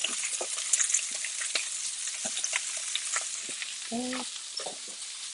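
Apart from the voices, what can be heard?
pearl oyster mushrooms sautéing in a pan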